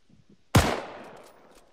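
A single sharp gunshot cracks out in a zombie-shooting war video game and its echo tails off over about a second, after near silence.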